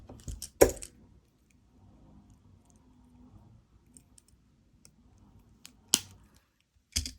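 Jewelry wire is snipped with cutters while making wire-wrapped cluster earrings, giving a few crisp metallic clicks spaced seconds apart with near silence between them.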